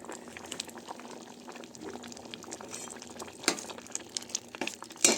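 Mango and lentil dal simmers in a pot, giving a faint, steady bubbling with occasional soft pops and clinks close by.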